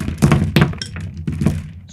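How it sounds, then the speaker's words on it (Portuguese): Hailstones strike a surface in heavy, dull thuds, four or five loud impacts in uneven succession with brief cracking edges, close and without any voices. "Chuva de pedras."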